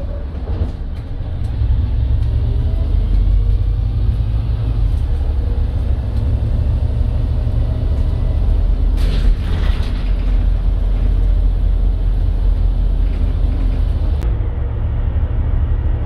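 Brisbane Transport Volvo B5RH bus with a Volgren Optimus body running: a steady, loud low rumble of the diesel engine that holds evenly throughout, with some faint rattles and a brief higher whine partway through.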